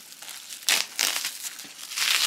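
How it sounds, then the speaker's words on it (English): Crinkly plastic and paper packaging is pulled off a Marc Jacobs mini leather tote bag in cement colour, producing close, bursty crumpling and rustling noises with short pauses. "Let's get some of this excess packaging off."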